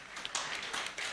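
An audience applauds at an energy-sector award ceremony, a dense wash of many hands clapping with a few sharper slaps standing out over about a second.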